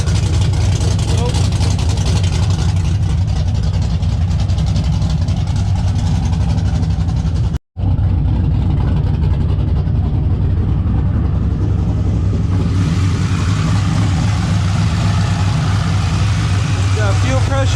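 A built LS engine in an OBS truck runs steadily after a fuel pump rebuild, making a loud, continuous idle rumble with a brief cut partway through. A voice speaks over it now and then.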